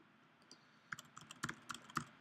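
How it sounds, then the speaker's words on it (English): Keys clatter on a computer keyboard in short uneven bursts while someone types information into a form, faint and close, with no talking. "Go in and type some information."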